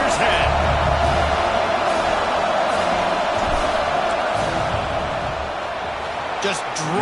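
A football stadium crowd roars during a field goal attempt, a loud sustained wall of cheering and noise that stays level throughout while a commentator talks over it.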